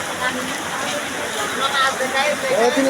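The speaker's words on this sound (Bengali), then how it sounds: "বৃষ্টি পড়ছে তো মাছ দেখা কি করবেন" Rain falling steadily, a close, continuous hiss of drops on surfaces with voices talking over it.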